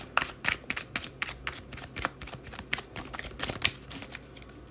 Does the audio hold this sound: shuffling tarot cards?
yes